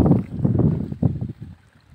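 Strong wind at a shrimp pond sluice gate construction site in Tarakan, North Kalimantan, buffeting the microphone in loud, low, gusty rumbles that ease toward the end.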